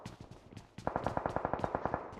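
Automatic gunfire from the battle royale game Battlegrounds Mobile India during a tournament match: a rapid burst of about a dozen evenly spaced shots that sounds fairly distant and faint, preceded by a softer stutter of shots.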